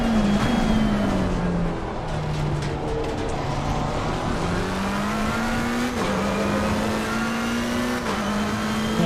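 A GT3 race car engine drones steadily at Suzuka in a racing video game, its pitch rising through each gear and dropping briefly at the shifts, loud and continuous with no talk.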